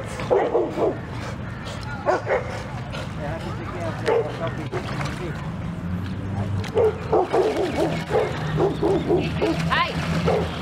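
Small puppies yip and bark in short bursts, close by, mixed with people talking and some whimpering.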